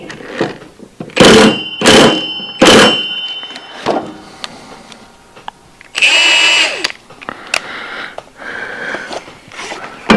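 Power tool, likely an impact or drill driver, loosening the blade from the underside of a Hustler FastTrack mower deck with a locked-up spindle: three loud bursts close together early, then a longer whirring burst with clangs and handling noises between.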